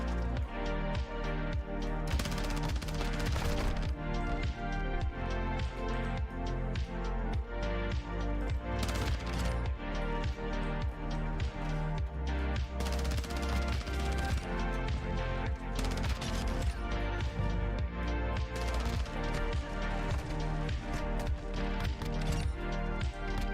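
Heavy automatic gunfire in Modern Warfare 2 hammers in rapid bursts across the whole stretch, loud and dense with the game audio, and several sharp louder volleys stand out.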